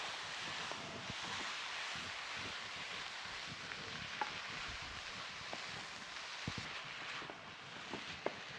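Mince and lentils fry in a pan, giving a soft, steady hiss with scattered small crackles throughout and no voices.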